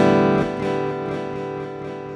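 Strummed chord on a Donner Hush-i Pro travel guitar run through a dual delay effect, ringing out loud and close with a fluttering wash of repeats that slowly fades, no voices.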